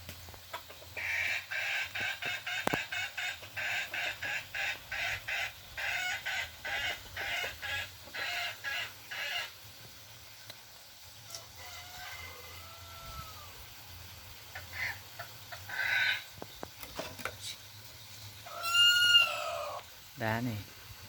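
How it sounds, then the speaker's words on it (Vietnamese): S2 jungle fowl roosters give repeated clucks and calls, with a crow rising near the end, recorded close by amid quiet background noise. "Đây là gà rừng S2 nhá"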